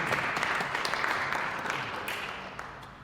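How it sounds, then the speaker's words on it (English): Audience applause at a cultural symposium greets a writer, a dense wash of clapping that gradually fades toward the end, heard from within the room. "Round of applause for Samiya Bashir."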